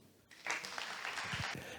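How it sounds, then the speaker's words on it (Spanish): Audience applause at a talk on the crisis of mediations, a steady wash of clapping that swells after a quiet start and holds at moderate level. "un aplauso a Julio."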